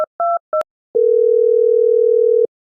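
An outgoing phone call goes unanswered: a few short electronic beeps, then one long, steady, loud tone with nothing else around it.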